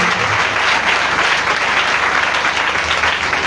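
A church congregation claps and cheers during an end-of-year celebration service, a loud, dense, steady wash of applause filling the whole stretch without a break.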